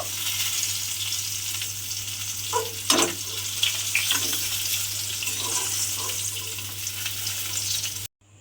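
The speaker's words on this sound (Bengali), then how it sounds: "লাল লাল করে একটু ঢ্যাঁড়সটাকে ভেজে নেব।" Okra fries in oil in a pan until browned, giving a steady close hiss of sizzling with a few stirring clinks in the middle, before the sound cuts off abruptly.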